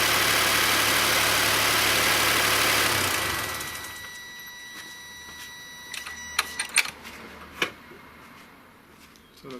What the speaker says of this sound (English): The car started.